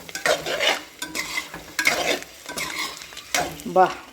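Raw-crushed shallots fry in a pan for egg curry, stirred in several bursts of scraping and sizzling, close and fairly loud, with brief pauses between strokes.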